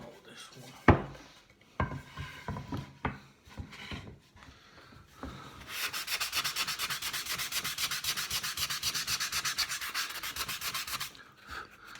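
Sanding sheet scrubbed by hand across wood for shelves, a steady, fast back-and-forth rasp lasting several seconds, preceded by scattered knocks and handling noises.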